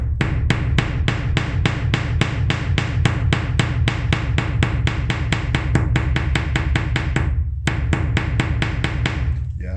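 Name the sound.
hammer peening metal over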